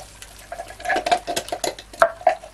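Tomato mixture poured into a frying pan, with wet splattering, clinks and scraping against the pan in an irregular run of close kitchen sounds.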